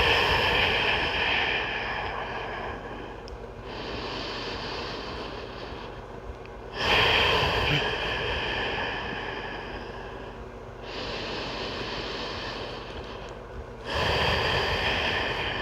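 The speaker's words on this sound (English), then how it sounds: "Breathe deep breaths into your belly." Slow, deep belly breathing during a rest in a yoga class. Long breaths in and out trade places in an even, unhurried rhythm, close to the microphone and breathy, with no talking.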